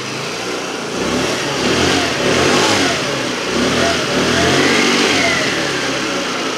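A small off-road buggy engine runs steadily at a quiet, even idle with mild swells in revs, no exhaust rattle, heard alone and close.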